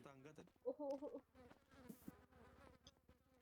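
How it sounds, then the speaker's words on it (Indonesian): A fly buzzes faintly near the microphone, and quiet voices talk around it. "Ini kok ada lalat ya?"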